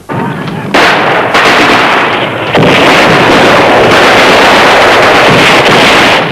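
Very loud, dense battlefield din of 1914 war artillery and gunfire, with booming blasts and rapid shots overlapping continuously without a break.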